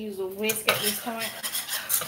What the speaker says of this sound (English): Whisk at this point.